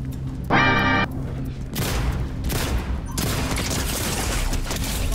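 Rapid, dense gunfire from enemy players in Fortnite rattles close and loud in a steady barrage, with a short buzzing burst near the start and continuous shots after.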